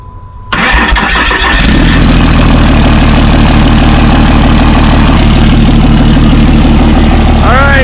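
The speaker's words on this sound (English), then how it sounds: "see if we can get a good old cold start out of her" A 2007 Ram Megacab Cummins diesel with no exhaust past the turbo cold-starts after a brief crank, then settles into a loud, raw, rattling idle that stays steady and close for several seconds.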